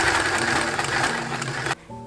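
A sewing machine runs fast and close as it top stitches elastic on a vintage dress, a dense buzzing whir that stops abruptly after under two seconds, leaving a faint hum.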